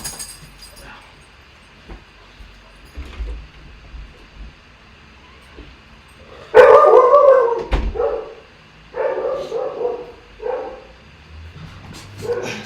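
A dog barking and howling indoors, scattered bursts with a louder cluster in the middle, moderately close, over a quiet room background.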